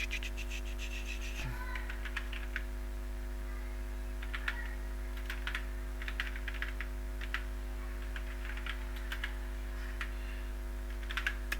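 Typing on a computer keyboard, irregular bursts of soft key clicks spread through the stretch over a steady low electrical hum, with no voices.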